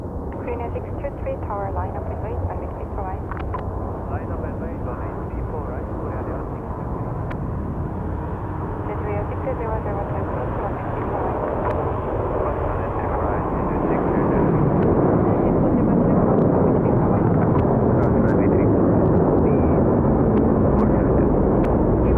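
Airplanes departing Seoul Incheon airport, heard as a continuous broad jet roar that builds louder toward the end, with people talking over it.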